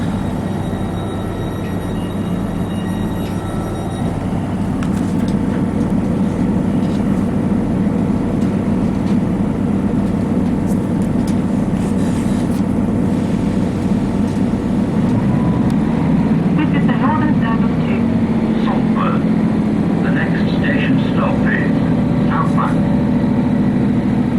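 Diesel train engine on a Tyne & Tees railway service, a loud steady low rumble throughout, with the engine note shifting and a rising whine toward the end, up close from on board.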